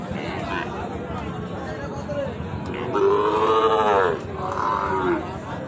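At a Raniganj cattle market, Sahiwal cattle and a calf moo in two long, drawn-out calls over a constant crowded background murmur, while someone talks nearby.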